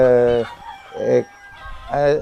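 Native country chickens of the Siruvidai breed call on a farm: a rooster's crow opens and closes, with a short cluck in between, all close and fairly loud.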